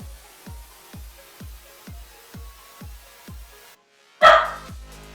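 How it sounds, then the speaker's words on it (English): A dog barks outside in a steady series of about eight evenly spaced, moderately loud barks, followed by a sudden louder sharp sound at the end. "I think someone's walking their dog."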